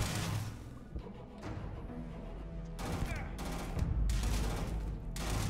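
Bursts of automatic gunfire in the space game Starfield, several loud rapid volleys separated by short gaps, with game sounds and faint talk underneath.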